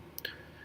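Two quick, faint mouse clicks sound in a quiet room while a software option is selected.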